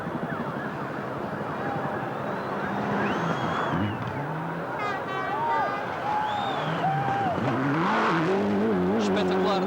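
A Tommi Mäkinen rally car, driven flat out through a left hairpin on the Ponte de Lima Sul stage of the 2001 Rally de Portugal, engine revs rising and falling with gear changes under a commentator's continuous talk.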